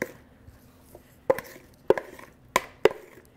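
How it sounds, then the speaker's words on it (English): Vegetables tumble into a pan for a one-pan shrimp and vegetable dish, landing as a few separate sharp clattering thumps spaced about half a second apart, close by over a quiet kitchen background. "I am going to dump my veggies"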